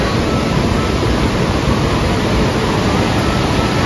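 Shifen waterfall in Taiwan roars as a dense, loud, unbroken rush of falling water, steady throughout with no other sounds standing out.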